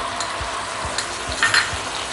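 Chicken 65 mixture stirred in a pan over a low flame, a close sizzle with rhythmic scraping strokes of a spoon, about four or five strokes, and a couple of brief metallic clinks, no voices.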